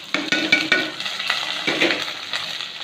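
Small shallots frying in a clay pot for a village-style pond fish curry, a close sizzle broken by rhythmic scraping and clinks of a spoon stirring against the pot, with no talk.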